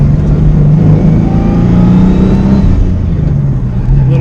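A 500 HP turbocharged V6 Ford Mustang project car revving from inside the cabin during a downshift, a loud steady engine drone with shifting pitch and no talk.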